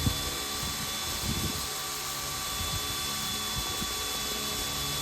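An electric driver with a clutch tightens screws into the thick plastic differential housing of an Axial SCX6 RC crawler. A steady whirring hum carries irregular clicking bursts, close up and without speech.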